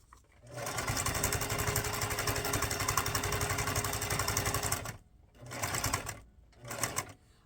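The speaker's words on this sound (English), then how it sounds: "Sew that on." Sewing machine stitching a fabric scrap onto a paper junk journal, a long continuous close mechanical whir followed by two shorter bursts of stitching with brief pauses between.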